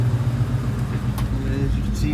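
A 1997 Cobra's engine idles with its exhaust running, a steady low rumble close by with faint voices in the background.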